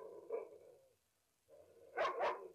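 Several dogs in a kennel bark, with a faint bark early on, then a closer burst of two or three sharp barks at the end against a quiet background.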